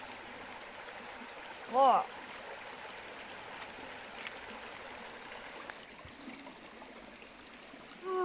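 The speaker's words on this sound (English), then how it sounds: "I'm standing in the middle of the stream." A beck runs through a quiet valley, with water flowing steadily as a continuous soft rush close by, and a person briefly speaks over it.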